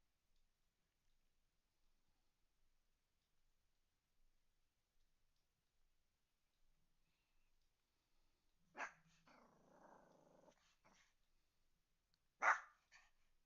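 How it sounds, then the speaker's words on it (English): A dog barks sharply twice, with a short growly, rumbling vocalization between the barks, after a long stretch of near silence. "Hey, no barking."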